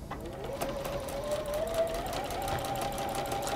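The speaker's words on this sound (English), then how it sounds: "So we're sewing on the line that we've marked." Sewing machine stitching along a marked line on fabric, a quiet, steady mechanical whirring hum with a fine rapid needle clatter running continuously, close by, with no talk over it.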